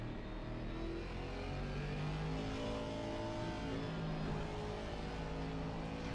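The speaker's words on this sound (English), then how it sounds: "look at the boy drifting." Sustained engine roar of a race car in a sim racing game such as Assetto Corsa or iRacing, held at high revs with shifting tonal bands as the car slides sideways, loud and steady throughout with no voices.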